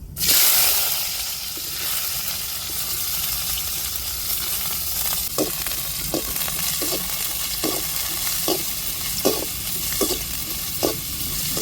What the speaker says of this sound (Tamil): எண்ணெய் சூடு ஏறிட்டு நல்லா பொரியட்டும் கட் பண்ண வெங்காயத்தை சேர்த்துக்கிடுவோம்